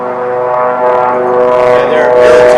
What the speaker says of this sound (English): I think I have a helicopter flying over, so that's what you're hearing